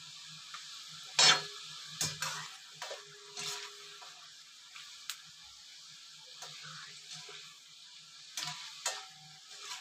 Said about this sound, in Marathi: हे बघा चांगले तळून घ्यायचे व्यवस्थित.